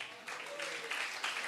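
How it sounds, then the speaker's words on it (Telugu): A church congregation claps loudly in a short burst of dense applause, swelling in waves while a voice carries over it. "గట్టిగా చప్పట్లు కొడదాం"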